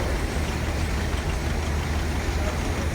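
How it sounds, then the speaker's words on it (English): A steam traction engine at a parade runs steadily nearby, a dense, rumbling low chug with a constant broadband hiss and no voices. "It is a steam engine owned by Mr. Dale Lewis up there from Jackso"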